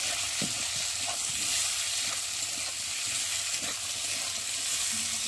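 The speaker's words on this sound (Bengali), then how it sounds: "চলো আলুগুলো একটু ভালো করে লাল করে ভেজে দেখো" Cut potatoes fry in a pan for a rohu fish recipe, giving a steady close sizzle with occasional stirring scrapes and taps throughout, no talking.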